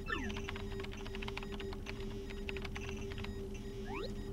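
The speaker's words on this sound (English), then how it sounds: "Use the keyboard in front of you." Keyboard typing in the video game Paper Mario: The Thousand-Year Door, a rapid run of light key clicks against a steady game tone with rising chirp effects at the start and end, with no talking.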